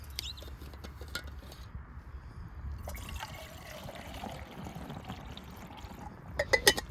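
Water pours and trickles from a Pathfinder water bottle into a small pocket brew kit pot over broadband background noise, with a few light clinks near the end.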